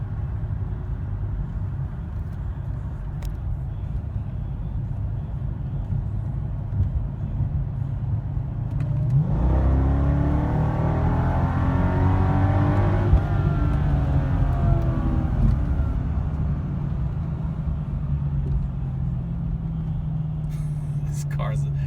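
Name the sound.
supercharged Mercedes E55 AMG car accelerating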